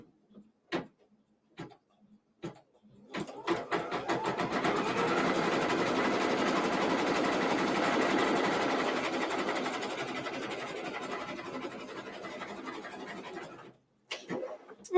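Embroidery sewing machine stitching down fabric on a quilt block, a fast continuous mechanical whir and chatter running about ten seconds, framed by a few sharp clicks before and after.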